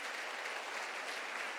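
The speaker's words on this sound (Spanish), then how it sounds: "denle un aplauso si todavía están aquí" Faint, even applause from a church congregation during a sermon, a short steady patter heard from a distance.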